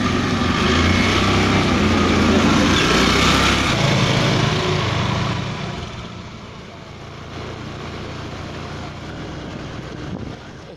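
A motorcycle engine runs steadily close by on a street, a loud continuous drone that drops somewhat in level halfway through as it settles to a lower rumble, with voices speaking over it.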